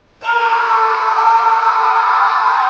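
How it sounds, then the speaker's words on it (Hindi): A loud, sustained horror-story scream cries out for over two seconds after a sudden start, steady and intense with no talk over it. "पूरे घर में विक्रम की एक जोरदार, डरावनी आखिरी चीख गूंज उठी।"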